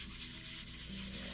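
A polymer clay cabochon is sanded with 2000 grit paper, a soft continuous rubbing hiss heard close up with no pauses.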